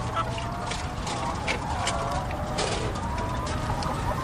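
Chickens in documentary footage give a dense, constant clamor of clucks and squawks from many birds at once, steady and fairly loud with no pauses.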